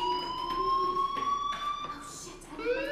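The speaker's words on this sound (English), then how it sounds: "do you hear that fire alarm?" A fire alarm in the video game Life is Strange rings as a steady, piercing electronic tone held continuously, moderately loud, with a faint rising warble near the end.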